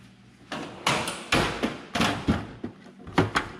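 Bangs and thuds from a big metal toolbox drawer being handled, several heavy clunks with rattling tails at irregular intervals, close and fairly loud, without talk.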